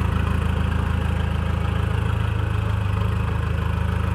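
Modified turbo SUV engine idling at a diesel pickup truck racing event, a steady, close, loud low rumble with a constant throb and no talking.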